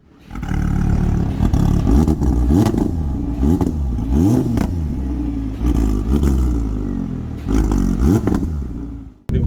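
A 2017 Audi R8 V10 Le Mans Edition engine revs repeatedly and loudly up close, in sharp rising and falling bursts with clattering pops between, heard alone without talk.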